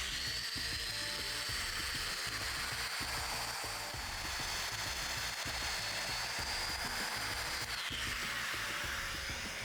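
A Domino joiner cuts mortises in wood for an outdoor table: a continuous high-pitched motor whine over a rhythmic, clattering chatter from the cutter, close and steady with no voices.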